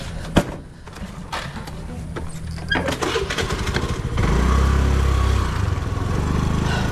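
A motorcycle pulls away from a Nayra petrol pump at Mirzapur in Purba Medinipur, heading toward Egra. Clatter and clicks come first, then the engine note rises and holds steady and fairly loud.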